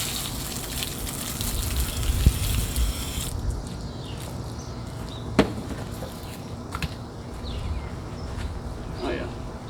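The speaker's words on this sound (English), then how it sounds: "let's just go ahead and wet this thing down" Water sprays steadily onto a red hickory log, a broad continuous hiss with a few sharp knocks, lighter after the first few seconds.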